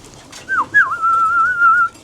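A pigeon gives one close, clear call, two quick dipping notes and then a long steady whistling coo, alone in a quiet setting.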